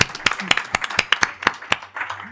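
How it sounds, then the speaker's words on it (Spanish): Scattered claps from a small audience at an academic panel on prohibited and conflicting AI systems, sharp separate hand claps in an uneven rhythm for a couple of seconds, fairly close and not dense. "vamos a aplaudirle"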